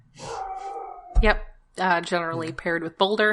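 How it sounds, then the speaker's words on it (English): A pet dog howls in the background, a drawn-out wavering howl near the start, while a person talks over and after it. "You have a dog in the background."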